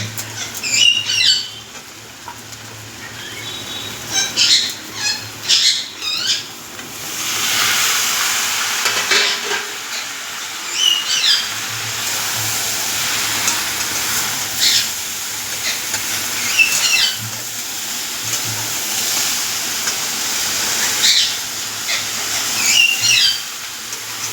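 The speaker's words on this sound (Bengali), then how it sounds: "ঝিঙাটা দিয়ে ভালো করে ভাজা ভাজা করে নেব" Ridge gourd frying in a pan with young onion and potato, a continuous moderate sizzle with intermittent scraping and squeaky stirring strokes, close and without talk.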